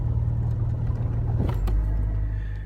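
A manual-transmission car engine held at a steady high rev, a sustained close rumble with a brief surge and settle near the middle, no voices.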